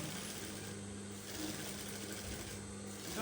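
A sewing machine runs a steady low hum while it stitches a seam around a V-neck shift dress, quiet and continuous for a few seconds with no talk.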